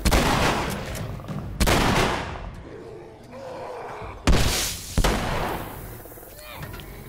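Loud gunshots from The Last of Us, in Bill's Town: a few heavy blasts spaced seconds apart, each with a sharp crack and a long echoing tail over a murky in-game ambience.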